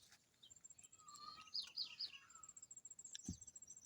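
A troupial calls outdoors in the countryside, giving a short run of bright whistled notes against faint insect and ambient background noise.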